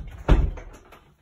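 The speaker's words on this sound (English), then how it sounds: "so this door takes you through to the garage" A house door leading through to the garage opens with a single solid clunk, close and fairly loud, followed by a brief fading rattle.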